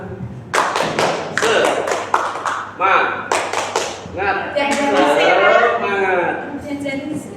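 Several sharp hand claps from a group in a quick rhythmic icebreaker pattern at a teachers' workshop, then a burst of lively group chatter and cheering.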